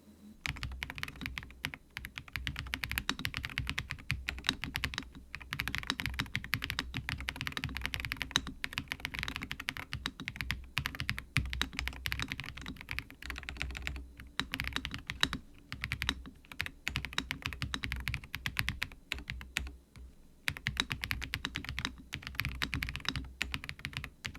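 Typing on a Redragon Eisa Max mechanical keyboard with lubed Mambo switches and PBT keycaps, a continuous stream of soft, deep, rounded keystrokes at a quick, uneven pace, close up, with a couple of brief pauses.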